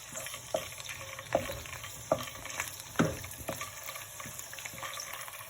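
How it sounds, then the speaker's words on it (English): Quiet sizzling of garlic ginger paste frying in oil in a pan for karahi keema, a soft crackle with occasional sharper pops and stirring clinks, under a faint background hum. "it started to sizzle a little bit"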